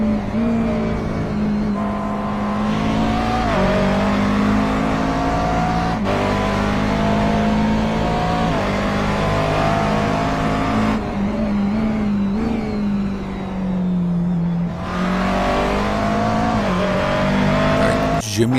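A McLaren race car laps a track, its engine a loud, sustained drone that rises and falls in pitch through gear changes and corners, with a commentator talking over it throughout.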